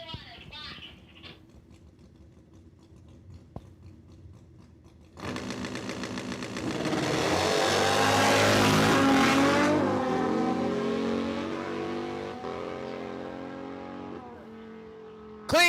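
Suzuki drag bikes staging at a drag strip starting line during a points race; quiet at first, then engines roar in loudly, revving up to a sustained high howl before easing off, with a faint announcer voice early on.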